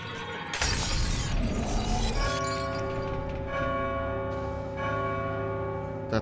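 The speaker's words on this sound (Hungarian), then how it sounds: "Tehát ott van egy harang." A large bell in God of War 2 rings out after a shattering crash, its sustained metallic tone hanging and decaying, then struck again so a second ring swells over the fading first.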